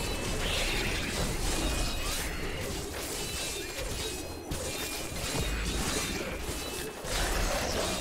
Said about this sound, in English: I like how I'm using a crossbow, but it's basically a machine gun.